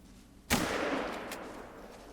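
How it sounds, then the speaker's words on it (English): A single sharp rifle shot rings out in theHunter: Call of the Wild, aimed at a fleeing animal, loud and close, followed by a long decaying echo and a fainter second report about a second later. "Take a few pot shots at it as it's running off."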